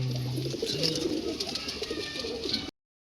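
Low, soft cooing of pigeons repeats through the clip, with bright chirps and twittering from other birds overhead and a steady hum underneath.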